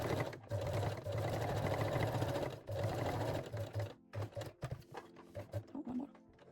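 A sewing machine stitches along the edges of a cosmetic pouch, running in steady close bursts with a brief stop, then breaking into short stuttering runs and clicks toward the end.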